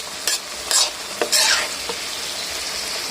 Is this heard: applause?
no